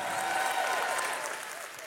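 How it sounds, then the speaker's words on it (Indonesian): Church congregation clapping steadily in a large worship hall, a dense, continuous wash of applause holding for a couple of seconds before easing slightly, with no clear voices on top. "Boleh tepuk tangannya yang paling meriah."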